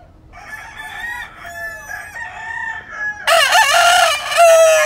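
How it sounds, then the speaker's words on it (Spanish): Lacy Roundhead gamecocks (Carl Davis Lacys) crow and cluck close by, with drawn-out calls overlapping and a loud burst of crowing toward the end. "qué chulada de gallos le estamos enseñando ahorita"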